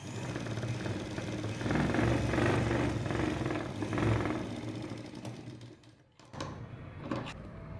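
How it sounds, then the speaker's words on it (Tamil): A sewing machine stitches a lining jacket, a steady close mechanical whirring with rapid needle chatter that slows and stops near the end, then briefly restarts. "இப்போ அதுக்கு பக்கத்துலேயே ஒரு கேடு அளவுக்கு இன்னொரு தையல் போடுறோம்"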